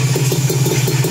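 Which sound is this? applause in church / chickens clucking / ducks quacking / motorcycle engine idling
motorcycle engine idling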